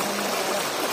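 Floodwater of the swollen Shivnath river near a village rushes past in a steady, continuous broadband wash, close and fairly loud, with no clear break.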